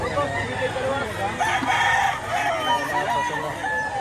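A rooster crows in a yard of chickens in Batangas, a drawn-out call over a steady bed of clucking and farm noise, with people talking nearby.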